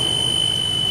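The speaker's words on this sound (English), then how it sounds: "You open this one, you can hear the alarm go off." The emergency window alarm on a school bus gives a steady, shrill, high electronic tone. It sounds loud and unbroken, with no voices.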